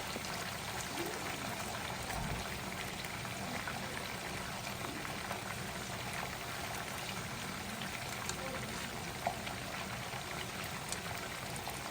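Shrimp or other food frying in a pan during a Ghanaian home cooking session, a faint, steady sizzle and bubbling crackle continuing evenly for the whole stretch without speech.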